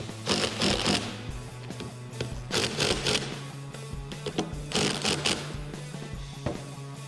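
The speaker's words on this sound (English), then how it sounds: "we're going to take our 17mm socket, go around and tighten these up." Ratcheting and clattering bursts from a 17mm socket tightening bolts on a 2007-2018 Silverado/Sierra front leveling kit install, coming in several uneven clusters over a steady low hum, close and fairly loud.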